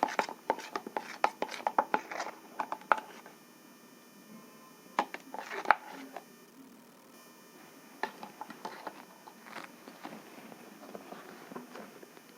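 Blue detergent powder ingredients are stirred and mixed by hand, producing irregular scraping and tapping bursts, denser at first and then sparser and softer.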